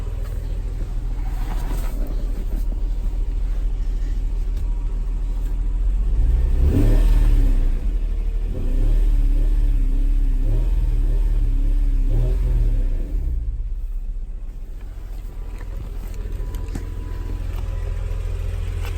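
Honda/Acura NSX for sale in Japan, its engine idling loud and close, then revved in a few rising and falling pulls before settling back to a steady idle, with no talking.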